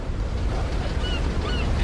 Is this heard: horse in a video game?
no